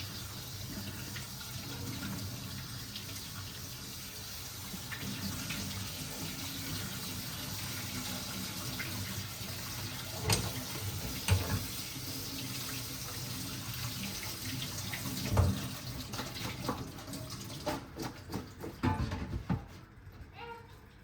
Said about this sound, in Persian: آب کش میکنیم یا آب روش میگیریم.